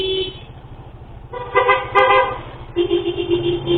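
A car horn honks in slow traffic on a shortcut from Intramuros to Binondo, giving a few short, loud toots close by over a steady idling engine.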